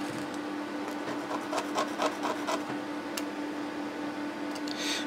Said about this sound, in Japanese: もうちょっと削る必要がありそうですね